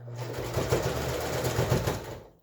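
Close-up sewing machine stitching slowly and steadily through multiple layers of pleated face mask fabric, a continuous whirring run that fades out as it stops.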